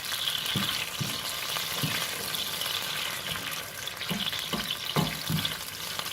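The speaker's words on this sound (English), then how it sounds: "you just kind of break them up, and they kind of melt with the oil" Anchovy fillets break up and melt into hot oil for a spaghetti sauce, giving a steady close sizzle with soft periodic stirring scrapes and taps throughout, no voices.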